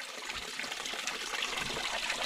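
Steady broadband rush of a clear flowing stream where a dog bathes in cold water, continuous and fairly close with no break through the short stretch.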